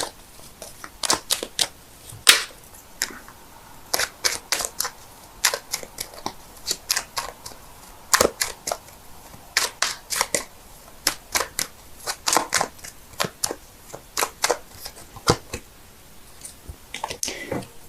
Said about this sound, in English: so give me a sec while I shuffle